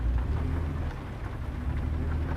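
Steady rain pours down in American Truck Simulator, a loud, continuous hiss with a low rumbling undertone and no speech, filling the whole stretch evenly.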